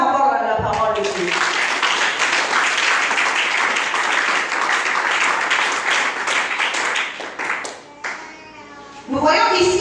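A church congregation breaks into loud, sustained applause that lasts several seconds, then fades as a preacher resumes speaking in French.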